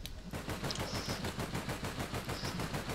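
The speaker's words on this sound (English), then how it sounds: "I'm not impressed with my shooting there at all" Automatic gunfire in the video game APB hammers out in a steady, rapid rhythm of evenly spaced shots, loud and continuous throughout with no pauses.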